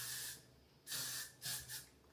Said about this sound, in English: And then I'll just lightly spray it all over.